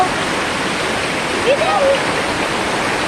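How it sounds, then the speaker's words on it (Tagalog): Heavy rain and rushing water during Typhoon Carina pour down as a steady, loud broadband roar that fills the whole span, with a brief faint voice-like sound partway through. "Bagyong Karina po ba? Napakalakas na ito."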